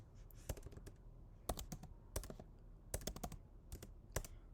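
Code being typed on a computer keyboard in quick bursts of close key clicks separated by short pauses, alone with no talking.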